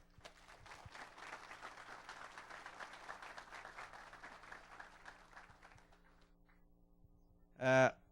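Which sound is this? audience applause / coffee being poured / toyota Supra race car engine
audience applause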